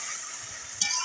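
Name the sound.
spice paste sizzling and being stirred in a pan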